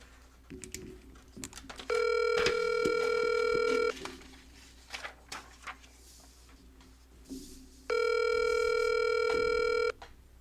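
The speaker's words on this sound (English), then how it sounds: "Here I'm gonna dial Ben." Two long electronic ringback tones sound a few seconds apart, with soft clicks and tapping in between, like a phone being dialed and ringing.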